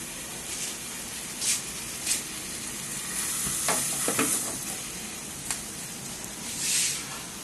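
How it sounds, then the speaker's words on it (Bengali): Eggplant roasting directly over an open gas flame at home: a steady crackling hiss with scattered sharp pops and bursts, close and moderately loud, with no talking. "এটা বেগুন বেগুনটা পোড়াচ্ছে"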